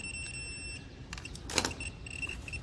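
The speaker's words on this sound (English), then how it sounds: "see how that yellow triggers and you hear the beep?" A handheld remote button tester beeps while checking the trunk button of a 2008 Volvo S40 2.4L remote; high, steady electronic tones repeat through the clip, with a louder burst near the middle, over faint handling noise.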